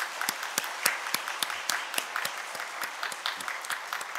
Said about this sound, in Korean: 여러분 환영하면서 앞으로의 사역을 기대하면서 크게 박수하시겠습니다.